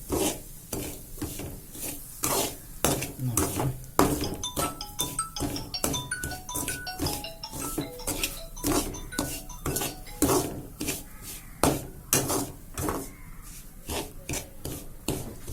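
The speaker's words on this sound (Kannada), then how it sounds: "ಸೊ ಗೈಸ್ ಈಗ ತುಪ್ಪದಲ್ಲಿ ಹುರಿತಾ ಇದ್ದೇವೆ" A metal spoon scrapes and stirs Bombay rava roasting in ghee in a pan, steady rhythmic scraping and clinking strokes close up, with no talk.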